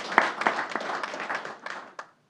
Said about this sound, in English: If we give everyone them a round of applause.